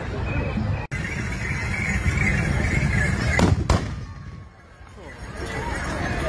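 A loud volley of black-powder rifle shots fired by mounted riders at a tourism and culture festival in Mansouria, a sharp crack followed by a second report and rumbling echo over crowd noise and a commentator's voice.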